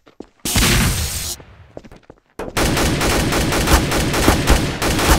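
In Trouble in Terrorist Town gameplay, a short burst of gunfire cuts off, then a few scattered shots follow before rapid automatic fire resumes, loud and sustained to the end.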